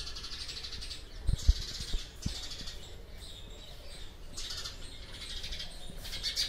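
A bird chirps and calls loudly in repeated bursts nearby, with a few soft knocks in between.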